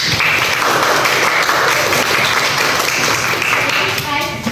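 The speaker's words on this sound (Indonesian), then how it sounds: "Oke, kasih aplaus dulu untuk teman-teman kalian." Classroom applause for classmates, a dense, continuous burst of many hands clapping at close range that tapers near the end.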